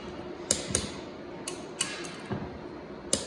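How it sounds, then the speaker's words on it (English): A torque wrench set to 50 foot-pounds clicks while bolts on a 4100 rebuild are rechecked: about six sharp, separate clicks, close and fairly faint over a quiet background, spaced unevenly across roughly three seconds. "you just want to recheck it with a torque wrench"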